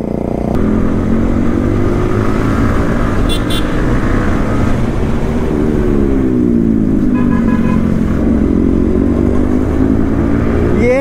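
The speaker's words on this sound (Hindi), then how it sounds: "ई लेवल का साउंड आता है यार इस बाइक से" Bajaj Pulsar RS 200 motorcycle engine drones loudly and continuously on a group ride, pitch rising and falling with throttle changes, with short horn toots from traffic nearby.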